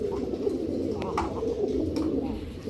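A pair of Indian Bombay pigeons cooing close by, a soft low throaty burble repeating steadily through a short stretch with faint background noise.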